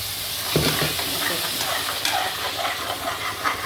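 Onion, ginger and garlic stir-fry in a hot pan with a steady close sizzle and hiss, broken by a few scraping stirs of a spoon.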